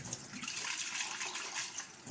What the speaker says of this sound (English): now you're going to want to rinse this part out